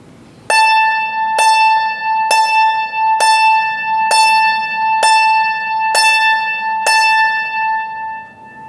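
Eight evenly spaced struck metallic-string notes ring out one after another, bright and bell-like with soft, rounded attacks, each sustaining into the next. No voices.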